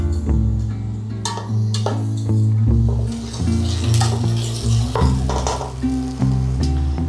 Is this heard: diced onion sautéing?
yes